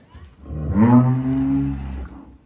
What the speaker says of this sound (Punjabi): ਰੈਡ ਫਰੀਜ਼ੀਅਨ ਗਾਂ ਹੈ, ਤਾਜ਼ੀ ਸੂਈ ਹੈ